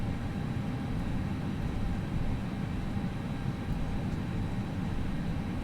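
Airliner taxiing in the Prepar3D v4.5 flight simulator at Tenerife: a steady, loud low engine rumble with a constant whine, unbroken for the whole stretch and without any talk.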